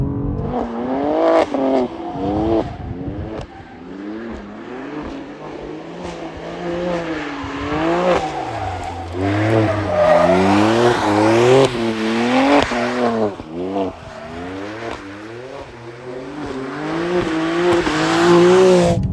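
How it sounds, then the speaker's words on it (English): BMW M2 drifting sideways through a corner with its tires squealing, engine revving and wavering loud and close throughout, the screech rising and falling as the car slides. "So all you just do is brake in front of the corner, car goes sideways, you throw it around."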